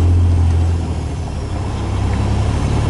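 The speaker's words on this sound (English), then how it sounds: "Right now we're at complete stop, and to get in gear, you have to use the clutch." Truck with an auto-shift transmission and clutch idling at a complete stop as it is put into gear, a loud, steady low diesel rumble close by with a slight dip partway through, no talking.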